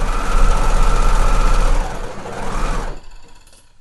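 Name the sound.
sewing machine stitching sweatshirt underarm and side seam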